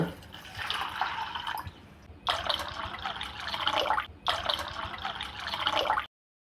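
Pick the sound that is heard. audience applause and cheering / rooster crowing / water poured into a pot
water poured into a pot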